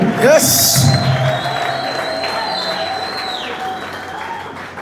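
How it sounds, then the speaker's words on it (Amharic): A crowd claps and cheers, with high trilling ululation rising over the applause near the start, then steady clapping continues. "ለእግዚአብሔር እልልታ ይሁን፣ ጭብጨባ ይሁን፣ ክብር ይሁን"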